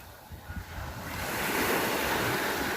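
Sea waves wash onto a beach in a steady, broad surf that swells louder after the first second and then holds, with some wind and no voices.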